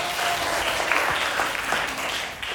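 Classroom applause from students during a teaching session, a dense, steady wash of clapping that carries on evenly for a couple of seconds and fades slightly at the end.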